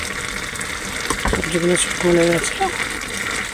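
Water poured into a cooking pan of vegetables and gourd leaves, a short splashing gush with sizzling, close, while someone talks over it.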